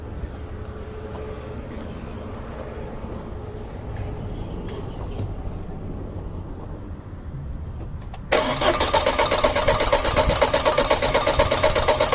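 A 2006 Audi A4 2.0T engine cranking over during a compression test: a steady mechanical churn for about eight seconds, then a sudden louder, harsher and denser surge that holds to the end, close up with no talk.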